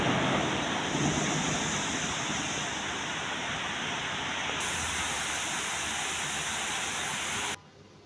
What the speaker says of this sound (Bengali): তো দেখুন অনেক বৃষ্টি পড়তেছে।